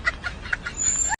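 Chickens give a few short, quick clucks close by over a faint background, followed by a sharper high note just before it ends abruptly.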